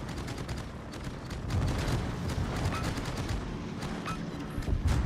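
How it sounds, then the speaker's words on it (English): Torpedo hits striking a ship in World of Warships, a dense run of booming impacts and rumbling blasts over a low battle roar, with repeated sharp cracks and no speech. "See all those torpedo hits?"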